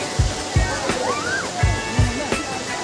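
A waterfall in the Maredumilli forest keeps up a steady rushing wash, with a few low thumps of splashing water and some whistle-like tones over it, while people talk nearby.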